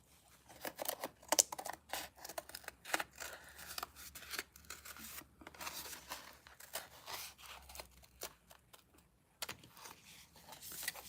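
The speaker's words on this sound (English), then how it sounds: "These scissors are killing me." Scissors snip repeatedly at close range while crafting Easter eggs from scratch, a quick irregular series of sharp crisp cuts with brief pauses, no talking.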